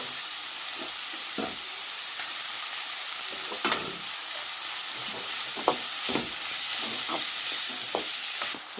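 Onions and tomatoes with curry leaves sautéing in a pan, a continuous close sizzle broken by intermittent spatula stirs and scrapes, with no one speaking.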